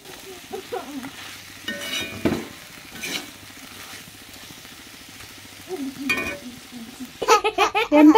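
Beef stir-frying in a pan with curry leaves and pepper powder, a steady sizzle and scraping stir with louder bursts of stirring, and laughter breaking out near the end.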